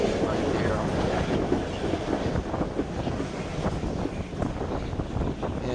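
A train running along cliffs in Alaska, heard as a steady loud rumble with wind buffeting the microphone throughout, continuous and close, with no talking.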